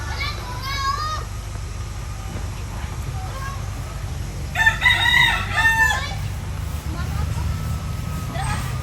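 Chickens cluck and a rooster crows repeatedly at a rural rented house, the crows rising clearly in the middle over a steady low hum, with children's voices and talk in the background.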